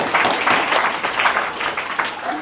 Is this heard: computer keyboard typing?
no